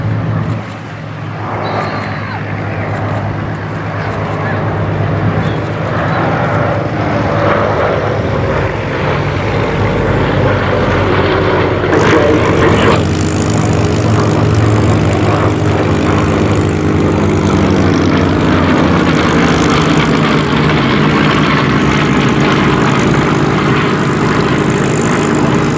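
A vintage piston-engined propeller aircraft, a B-25 medium bomber of the Second World War, flies past at the Duxford D-Day airshow, its loud engine drone rising and swelling over about twenty-five seconds.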